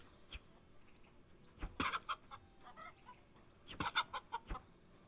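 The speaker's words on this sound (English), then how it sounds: "Chicken." Chickens cluck in the medieval video game Kingdom Come: Deliverance II, with two separate bursts of sharp, close squawking clucks over a faint ambient background and no talk.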